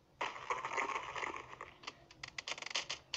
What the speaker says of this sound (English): That's the sound of perfect bones breaking in the morning.